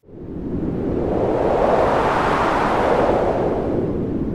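Steady, broad rushing wind swells up and holds, a continuous airy roar with no voices.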